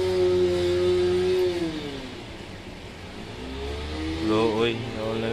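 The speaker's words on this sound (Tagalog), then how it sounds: "dumaan ang motor" A motorcycle engine drones past at moderate distance on a rainy street in Al Sadd, Doha, Qatar, pitch falling then rising again as another rev swells near the end.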